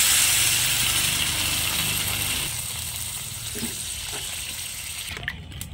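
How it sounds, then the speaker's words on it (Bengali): Water is poured into a pan of fried masala for a light fish curry, a loud hissing, rushing splash that slowly fades into a lower bubbling sizzle, with a faint clink near the end and no talk. "মশলা কষানো হয়ে গেছে, এবার আমি জল দিয়ে দিচ্ছি।"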